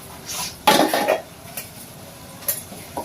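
Dishes and steel vessels clink and scrape in a home kitchen sink while being scrubbed clean, with a cluster of metallic knocks early on, then sparse clatters and rubbing sounds, fairly quiet and close.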